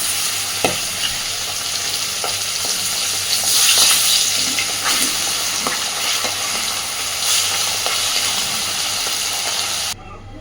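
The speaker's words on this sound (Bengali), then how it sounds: "সবকটা মাছ আমি এইভাবে সুন্দর করে ভেজে নেব।" Sardines fry in plenty of oil in a wok with a loud, continuous close sizzle, broken by occasional spatula scrapes and clicks before the sound cuts off.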